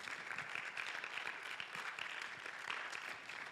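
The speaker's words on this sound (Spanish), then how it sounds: "Denle un aplauso al Señor." Applause from a Spanish-speaking church congregation during a sermon, steady crowd clapping at moderate volume that fills the short stretch without pause.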